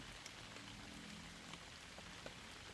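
Heavy rain falls in a steady, dense hiss with scattered sharper drop impacts. The downpour stays fairly soft and distant, with no talking.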